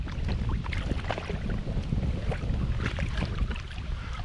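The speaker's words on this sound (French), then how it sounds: "Il y a pas mal de vent." Strong wind gusts across open water on a pike fishing outing, buffeting the microphone with a constant rough rumble and occasional splashy knocks from the boat.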